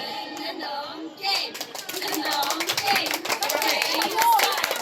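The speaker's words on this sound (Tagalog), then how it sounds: "Pinakamalakas sa palakpak." A crowd at a gathering claps hard and fast after a short pause, building into a loud, continuous patter of hands mixed with shouts and an excited voice calling out.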